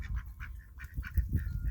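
Several ducks, drakes and a hen, close by, giving a run of short repeated quacks and honking calls in an irregular rhythm, with no talking.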